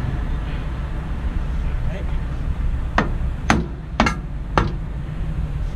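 A hammer taps a part back into a socket during tow-truck repair work on a Volvo, four sharp metallic knocks near the end over background noise and nearby talk.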